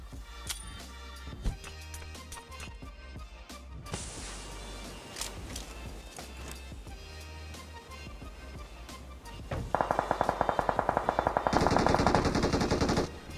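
Machine gun fire in the mobile battle-royale game PUBG Mobile, including an MG3, heard as scattered single shots and short bursts that build into loud, sustained rapid automatic fire near the end.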